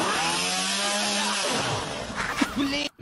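A chainsaw engine hums steadily for a few seconds, then dips and sputters before cutting out abruptly near the end.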